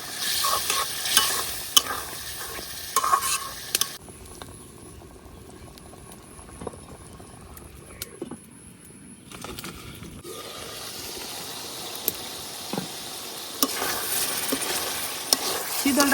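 Shidol, a dried fish paste, fries with jackfruit seeds in a village kitchen pan, a loud crackling sizzle that drops to a softer bubbling hiss midway, then rises again, with stirring scrapes and occasional clinks.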